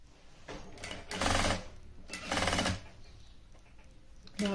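A sewing machine stitches a garment in loud, close whirring runs of about a second each, separated by quieter pauses as the fabric is repositioned, with no talk.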